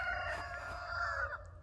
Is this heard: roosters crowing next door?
yes